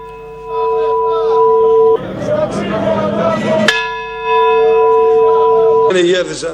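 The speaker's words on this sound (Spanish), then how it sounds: "Las campanas sonando a muertos" Church bells ring loudly with sustained, resonant tones, interrupted by a burst of crowd noise before the bells return.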